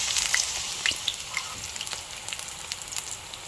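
Spoonfuls of batter fry in butter in a frying pan, giving a constant close sizzle with small crackling pops scattered throughout; no voices.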